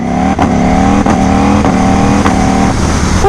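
A Ducati Panigale V4 motorcycle engine accelerates hard while short shifting, its loud, close revving roar broken by a run of quick gear changes that arrive in a steady rhythm.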